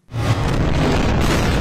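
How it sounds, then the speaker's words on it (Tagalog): Explosions in Gaza, a deep sustained boom and rumble that swells quickly and stays loud and continuous throughout. "nagpapatuloy ang mga pagsabog sa Gaza"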